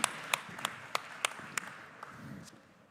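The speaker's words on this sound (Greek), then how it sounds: "Δώστε ένα χειροκρότημα." Scattered, fairly faint hand claps from a conference audience come in sharp, evenly spaced bursts, then fade into a soft room murmur.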